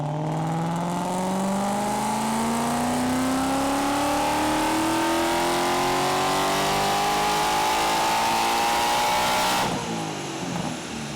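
A 2016 Mustang GT with a Whipple supercharger revs on a dyno, engine note climbing steadily in one long loud pull with supercharger whine, then cutting off abruptly near the end.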